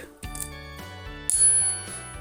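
A worn silver US coin is dropped for a ring test, giving two or three sharp metallic strikes followed by a clear, sustained bell-like ringing tone that slowly decays, close and alone.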